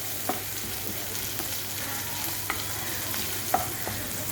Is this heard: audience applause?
no